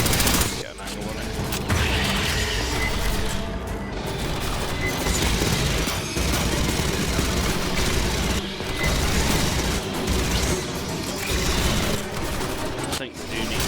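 Turret gunfire in the sci-fi shooter Aliens Fireteam Elite, a steady loud stream of rapid automatic bursts with booming impacts running the whole time, while a voice talks over the battle now and then.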